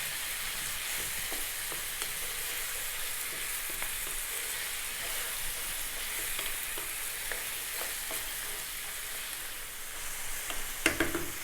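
Lamb curry sizzling steadily in a frying pan while being stirred, with continuous close frying hiss and soft scraping stir strokes throughout, a few sharper clinks near the end, no voices.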